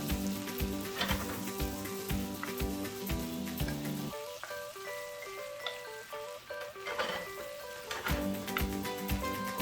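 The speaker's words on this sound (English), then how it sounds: "you're basically gonna glaze the carrot" Steady, loud sizzling of carrots cooking in a melted butter glaze in a pan, a continuous crackling fry with bubbling pops and a few utensil clinks.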